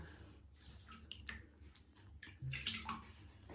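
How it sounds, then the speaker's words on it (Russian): A hairless sphynx cat gets bathed in a bathtub with plain water and no shampoo. Quiet splashes, drips and soft sloshing come close by, with a slightly louder swirl of water toward the end. "Купаем впервые его без шампуня. Просто чтобы он привык, да, к водичке."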